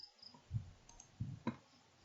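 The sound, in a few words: mouse click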